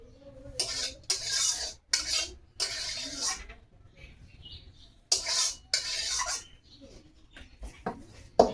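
Spoon scraping and clinking against a cooking pot while pumpkin leaf curry is stirred, several loud bursts of metallic rubbing and knocks separated by short pauses, close up with no talking.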